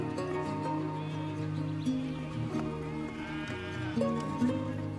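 A flock of sheep in Romanian herding country bleats in overlapping, wavering calls, several voices at once and close by, with a steady bed of sound and a few louder cries near the end.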